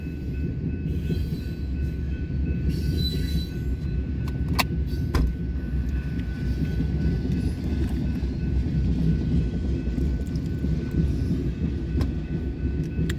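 A BNSF freight train hauling denatured ethanol tank cars rolls past on the single-track Sioux City subdivision main line, producing a continuous low rumble at moderate distance with a few faint metallic clinks.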